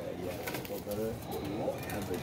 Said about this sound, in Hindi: ये जी व्यूअर खोखर का कबूतर आ गया